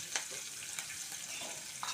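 Curry leaves sizzle in hot oil in a frying pan while being stirred, a faint, continuous crackling hiss broken by small bursts of spatter.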